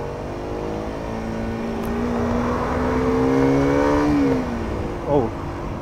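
A 2020 Kawasaki Ninja 125 revs hard in first gear, its pitch sweeping steadily up through the revs under throttle, then dropping off near the end. The engine note stays loud and close throughout.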